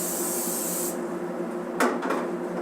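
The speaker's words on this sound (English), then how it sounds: "spray your grill with some high-low spray" Cooking spray hisses onto a flat egg grill in a short continuous burst lasting about a second, followed by faint scraping and clatter nearby.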